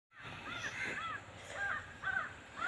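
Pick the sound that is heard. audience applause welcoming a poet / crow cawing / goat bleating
crow cawing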